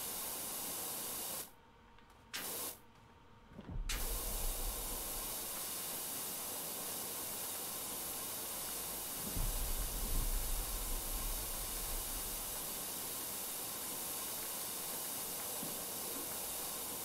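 Pressure washer spraying water in the PowerWash Simulator video game, a steady loud hiss that runs almost unbroken for the whole stretch, cut by two short gaps near the start and swelling slightly midway.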